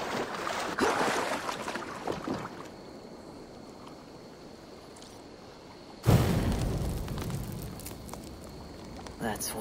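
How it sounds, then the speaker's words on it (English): A fire pit is lit in Assassin's Creed Valhalla during the Ostara Festival, a sudden loud whoosh and crackle of flame rising at once over quiet outdoor ambience, with a voice speaking beneath. "That's one fire pit down."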